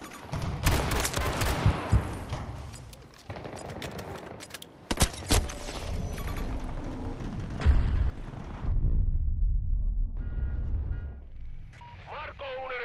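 Grenade explosions and gunfire in the shooter Battlefield 2042, with loud bursts of rapid fire and heavy blasts coming in waves, while voices call out over the battle.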